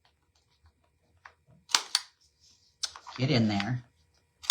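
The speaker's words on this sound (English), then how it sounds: "let's corner cut the bottom here" A corner punch cuts rounded corners on paper journal pages, giving two crisp, close snaps in quick succession, followed by a short spoken phrase and another click at the end.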